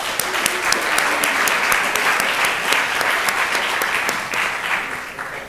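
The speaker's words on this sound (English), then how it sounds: "I applaud you all." Steady applause from a sizable audience at a youth entrepreneurship competition final, dense clapping that holds at an even level throughout before easing slightly at the end.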